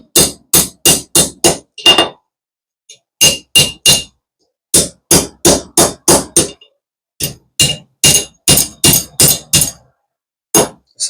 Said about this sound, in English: I simply just let the hammer fall. I don't strike hard. Just let the hammer do the work.